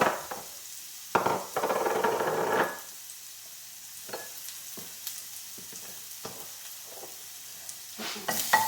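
Garlic sautéing in a little oil in a pan, soft sizzle broken by sharp scraping stir strokes and utensil taps, with a louder burst of stirring early on, close and fairly quiet.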